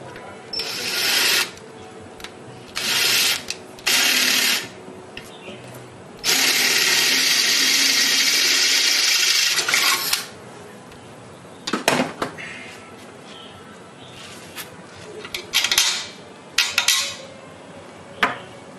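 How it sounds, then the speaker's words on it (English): A drill whirs in several short bursts and one longer run, enlarging bolt holes on a small 1 HP compressor, with clattering handling noises between. "drill bit here to make the holes bigger"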